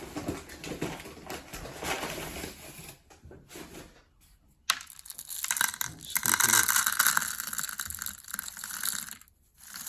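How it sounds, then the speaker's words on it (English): Clay pebbles are poured into the bottom of a pot for drainage, a close, rattling clatter of grains that pauses briefly midway and then resumes more loudly, with no talk. "get a little bit of drainage in the bottom of there. And for that I'm going to use molar clay"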